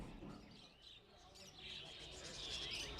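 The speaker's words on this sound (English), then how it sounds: "there are row upon row of caged birds for sale in this Chongqing park" Caged birds for sale in a park in Chongqing, China, chirping and calling faintly through a hazy outdoor background, the tweets growing denser and brighter toward the end.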